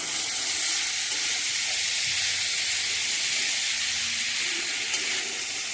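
Banana stem curry with fried peanuts sautéing in a pan, a steady close sizzle and hiss with occasional soft stirring scrapes, continuous throughout without talk.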